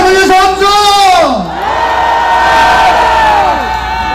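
A crowd at an outdoor Korean political rally (the 181st Taegukgi rally) cheers and shouts in a loud, sustained roar that lasts throughout, with voices whooping over the noise.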